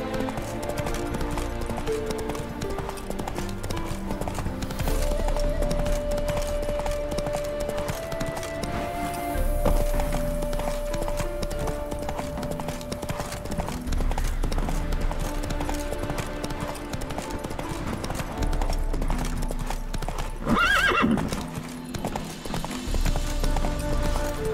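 Hooves of Geralt's horse Roach clip-clop steadily at a gallop in The Witcher 3 video game, a continuous rhythmic beat under game music and occasional character voices.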